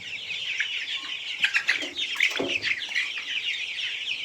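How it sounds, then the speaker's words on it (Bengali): A colour bird chicken clucks and squawks while being weighed on a farm, with close, agitated calls in irregular bursts that are loudest mid-clip over faint background chirping. "এই যে একটা মুরগি দেখতে পাচ্ছেন"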